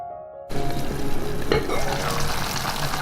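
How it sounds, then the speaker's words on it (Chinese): A spoon scoops simmering sauce and pours it over taro and pork belly in a braising pot. A steady bubbling sizzle starts abruptly, with a brief clatter of the spoon partway through, and no one speaks. "中间用勺子这样子舀汁淋到这上面来，这样子能够更入味。"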